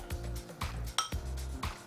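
Pasta is tossed with carbonara sauce in a pan, giving quick metallic clinks and scrapes of a utensil against the pan in a brief, close, uneven rhythm.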